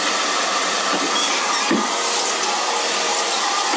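A hair dryer blows on hair worked through with a flat paddle brush, making a loud, steady whooshing roar that stays close and unbroken, with a few faint brush knocks and no talking.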